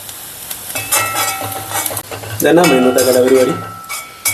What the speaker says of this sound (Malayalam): കുറേ നേരം ഇളക്കണം ഇത് മൂത്ത് വരണമെങ്കിൽ